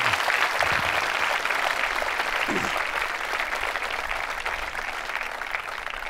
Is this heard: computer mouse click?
no